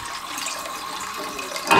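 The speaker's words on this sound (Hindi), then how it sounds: "थोड़ा सा पानी और डालेंगे" Water pours steadily into a cooking pot fitted with a steamer insert while mutton mandi is being prepared, a continuous close splashing rush with no talk.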